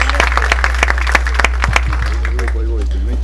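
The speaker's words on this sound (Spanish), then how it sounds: "un fuerte aplauso entonces para este grupo de ingenieros que acaban de ser reconocidos" An audience at a civil engineering week closing ceremony applauds a group of engineers being recognised, with sharp separate claps in the first half under a steady low hum, then a voice speaking as the clapping thins out.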